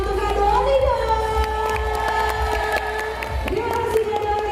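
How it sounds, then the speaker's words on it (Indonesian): An indoor audience applauds and cheers at a Sumatran elephant presentation at Taman Safari Bogor, while a loud sustained tone and a voice sound over the crowd throughout. "Tepuk tangan juga untuk Kak Doni dong."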